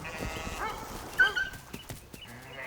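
Sheep on a New Zealand farm bleat faintly amid scattered hoof and movement noises, a short wavering call standing out briefly in the middle.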